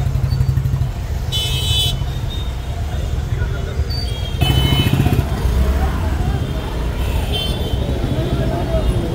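A jammed street in Ludhiana's market crawls with idling motorcycles and vehicles, and several short horn toots sound nearby over a constant engine rumble while people talk.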